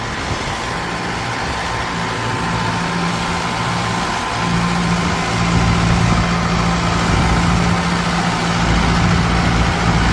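A tractor fitted with GPS automatic steering runs steadily in a field, its diesel engine droning loud and close with a low hum that deepens and strengthens about midway through.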